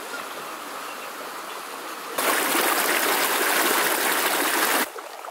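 A natural spring on a mountain hike, a steady close trickle of water that turns suddenly louder and fuller for a couple of seconds, then drops back.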